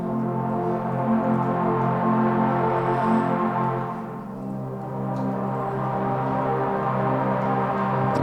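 A DRC synthesizer holds the warm background chord from a song. It is a thick, steady sustained pad that swells gently, with a brief dip in the middle, and plays alone.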